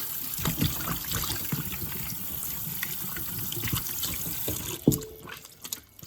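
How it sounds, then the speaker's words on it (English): Oxtails are washed in a sink under a running tap, with steady splashing water and handling sounds throughout, then a louder clunk near the end as the flow briefly drops. "so we're gonna wash our oxtails"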